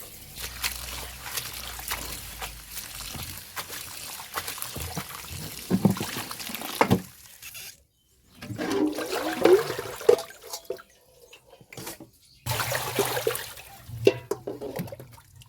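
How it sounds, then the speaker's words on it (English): Water runs steadily from a tap over fresh garden rosemary sprigs being rinsed of soil in a village home kitchen. The splashing pours on and off in several bursts, with short quiet pauses between them. "After washing them thoroughly, just to remove soil, because it's from the garden"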